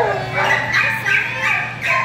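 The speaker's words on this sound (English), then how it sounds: "now we're gonna bark because we want out" A male dog barks and yips repeatedly to be let out, short bursts in a steady rhythm close by, with a person speaking over it.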